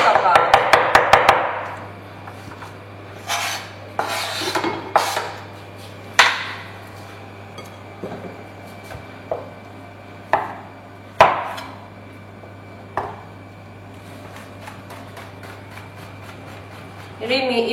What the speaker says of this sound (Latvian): Tādos nelielos kumosiņos sakapā.